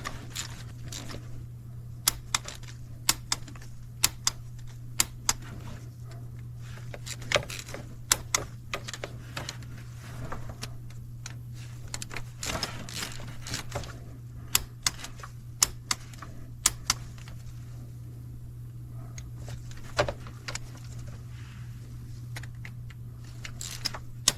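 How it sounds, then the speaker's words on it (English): Torque wrench tightening oil cooler bolts on a Sprinter van, giving scattered sharp clicks at irregular intervals over a steady low hum, with no talking. "So now I'm gonna go around the oil cooler to make sure that all the bolts are torqued."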